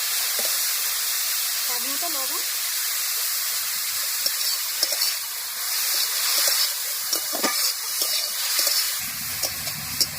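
Grated carrot and chopped potato fry in a pan with a steady, close sizzle and hiss, broken by a few soft scraping stirs and light clicks of the spoon; there is no talking.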